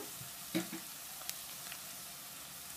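Onions and curry leaves frying in a pan for brinjal curry, a quiet continuous hiss of oil with a brief stirring clatter near the start and a few faint ticks.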